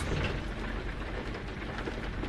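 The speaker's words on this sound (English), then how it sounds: "It rains now." Steady rain in the Euro Truck Simulator 2 driving game, a dense, even hiss of drops on the truck that holds at constant loudness throughout, with no talking.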